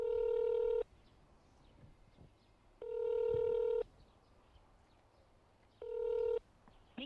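A telephone call goes out with a repeated dial tone, three long steady beeps separated by quiet gaps, before the line diverts to voicemail.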